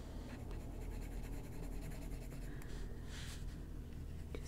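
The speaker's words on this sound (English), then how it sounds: "I'm just using a light pencil." A light coloured pencil scratches softly across paper in an adult coloring book, a continuous fine shading texture that stays close and quiet with no talking.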